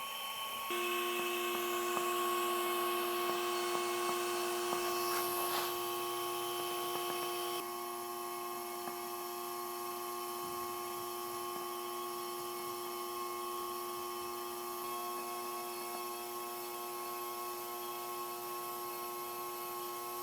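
A drone propeller spins inside a 3D-printed duct at a slower speed, giving a steady high-pitched whine with strong tonal hum that shifts slightly partway through, fairly quiet and continuous with no talking.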